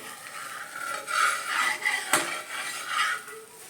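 Cutlery and a spatula clink and scrape against a hot pan as a crispy masala dosa is lifted off, a few close metallic taps with one sharper knock, no talking.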